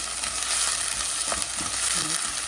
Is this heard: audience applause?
no